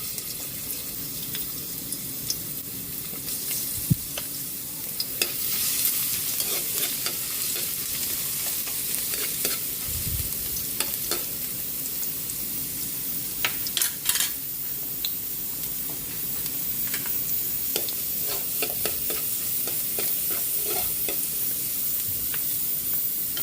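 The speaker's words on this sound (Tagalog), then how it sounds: "Lagyan natin mantika. Lagay na natin yung bawang." Garlic fries in hot oil for an adobong pusit, a steady loud sizzle that goes on throughout, with scattered scraping and clacking as a utensil stirs it in the pan.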